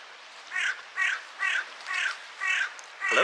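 A crow caws outdoors, six harsh calls at an even rhythm of about two per second, moderately near and clear over a quiet background.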